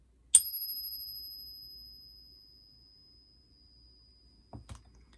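A silver coin struck with a beating stick gives a single bright metallic ring with a sustained high tone that slowly fades over a couple of seconds, followed by a few faint clicks.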